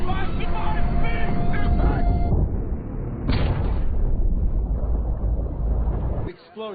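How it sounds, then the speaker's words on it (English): Explosions and rumbling blasts outside Polyarny in an action movie scene, a loud continuous roar with booming low end and a sharp burst midway, with a brief voice and tonal sounds early on. "Explosions just outside Polyarny"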